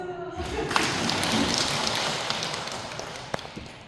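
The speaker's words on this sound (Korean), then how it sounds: "박수!" An audience at a Catholic parish lecture in a church hall applauds steadily for several seconds, a broad even patter of clapping from a roomful of people that fades slightly toward the end.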